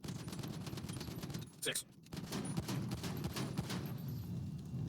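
Sustained pistol fire pours into the back of a Grotti Furia car in a video game, a steady rapid run of shots with a brief pause near the middle. A voice counts briefly under the gunfire.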